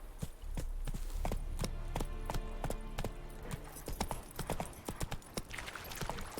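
Roach the horse's hooves clip-clopping in The Witcher 3, a quick, regular run of sharp close hoof strikes that keeps going with no break.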